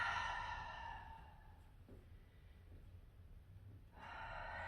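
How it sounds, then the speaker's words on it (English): A slow, soft exhale through the mouth during a morning yoga session comes as a faint, breathy rush with a gentle tone at the start and a second breath at the end. "Exhale through the mouth."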